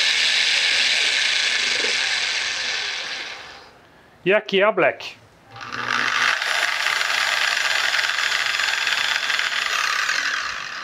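Two random orbital polishers, a Red and a Black model, run at speed 1 with a steady high whirring hum, broken midway by a short spoken remark before the motors resume at full level.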